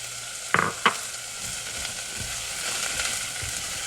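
Onion and carrots sauté in a pan for curried chicken and lentils, giving a steady close sizzle with two sharp stirring clatters near the start and softer scrapes later.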